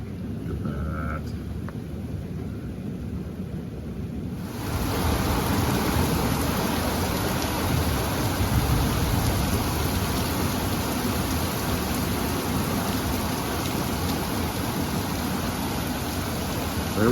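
Heavy spring rain falls in Leakey, Texas, jumping after a few quieter seconds into a dense, continuous roar of downpour drumming on surfaces nearby.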